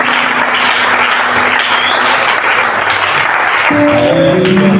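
A church congregation applauds and acclaims loudly in a thick, sustained roar of clapping and crowd noise, with musical tones rising in near the end.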